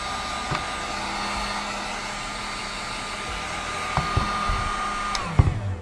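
Acrylic hard tubing for water cooling is warmed with a hot-air tool before bending. A steady, loud blowing roar runs throughout, with a few faint clicks and bumps near the end.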